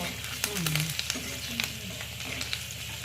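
Curry leaves crackle in hot tempering oil for a Maharashtrian dal gandori, a steady close sizzle with a few sharper pops and a faint low hum beneath, no talking.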